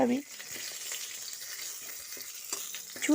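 Eggplant pieces and flat beans fry in a pan, producing a quiet, even sizzle with soft stirring scrapes, and a brief voice-like sound at the start and end.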